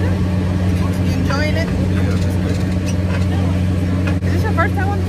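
A tractor engine drones steadily on a pumpkin patch ride, a constant low, loud rumble that runs the whole time beneath people talking nearby.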